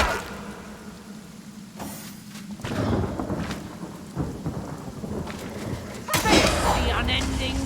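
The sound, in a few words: rain and thunder in the video game Divinity: Original Sin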